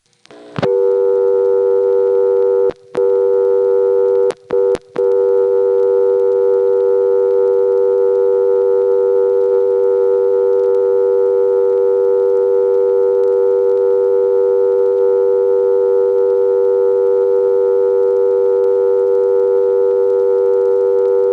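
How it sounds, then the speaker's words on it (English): NX1 crossbar exchange line heard from a payphone, steady loud dial tone with a few brief breaks early on, continuing unbroken and then timing out to a busy signal. "It times out to a busy signal instead of a reorder."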